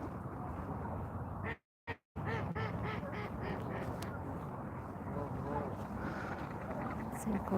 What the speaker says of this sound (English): Birds, birds, birds. Hello, birds.